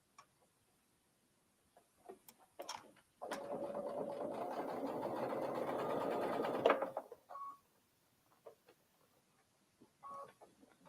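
A sewing machine stitches a quilt block in one steady burst of about four seconds, with scattered handling clicks before and after in a quiet room.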